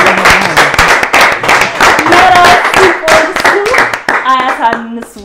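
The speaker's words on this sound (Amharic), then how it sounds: "አጨብጭቡለት" An audience claps in a quick, rhythmic burst during a TV quiz game among friends, loud and close, mixed with voices talking and calling out over the applause.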